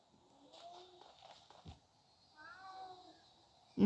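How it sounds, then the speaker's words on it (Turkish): Faint cat meows, a few short cries then a longer drawn-out whine, quiet and close, with a voice murmuring underneath during a mobile game session. "Kedi sus ya."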